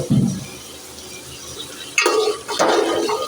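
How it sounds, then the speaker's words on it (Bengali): Diced potatoes tipped into a pan of fried onion and ginger, a soft sizzle followed by a sudden burst of louder clattering and spattering as the pieces land, then scraping stirs. "এবার আমি আলুগুলো দিয়ে দেবো।"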